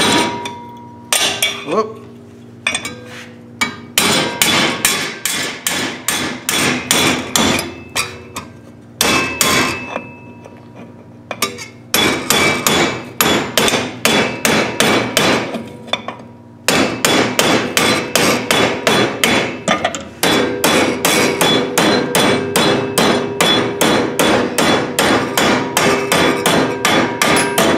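Hammer blows ring out on sheet metal being bent over for a battery disconnect switch mount. The strikes are loud, clanging and close, coming in rapid bursts separated by short pauses, and a voice exclaims once.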